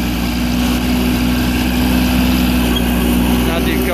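Steady engine drone of a 1988 John Deere 322 garden tractor driving uphill under throttle, a continuous low hum with a constant tone throughout, close and loud.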